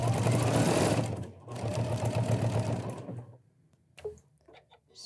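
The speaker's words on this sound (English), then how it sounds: "that's the first step of stitching down the binding" A sewing machine stitches down the binding on a floor canvas quilt, a loud fast whirring run that pauses briefly, runs again, then stops, followed by a couple of small mechanical clicks.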